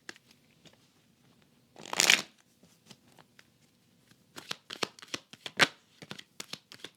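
Oracle cards are shuffled by hand nearby, a soft riffling burst followed by a series of quick, papery flicks and taps in uneven rhythm, quiet and alone with no talking.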